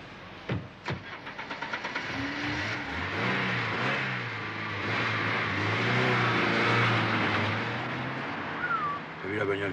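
A car engine cranks with a few sharp clicks, catches and then runs steadily, its hum climbing as it pulls away and drives on, loud and close throughout.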